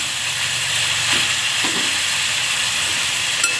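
Onion and tomato frying in oil with a pinch of salt for a green bean and potato sabji, a steady broadband hiss and sizzle throughout, fairly loud and close, no voices.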